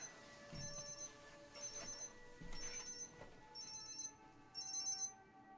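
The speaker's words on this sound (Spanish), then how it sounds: "déjeme apagar esta alarma." An alarm rings in a quiet room with a repeating high electronic trill. Five evenly spaced bursts grow slightly louder toward the end over faint background noise.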